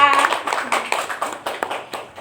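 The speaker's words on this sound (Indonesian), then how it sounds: "beri tepuk tangan untuk mereka" A voice is briefly heard, then a handful of scattered claps from a small group, light and uneven rather than sustained applause.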